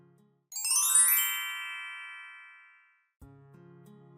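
A phone ringtone sounds once as a bright, ringing chime that swells and slowly fades over about two seconds, followed by a lower buzzing tone, with no talk over it.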